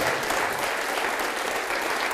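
A church congregation applauds during a worship service, a continuous even wash of many hands clapping at moderate distance with no voices rising above it.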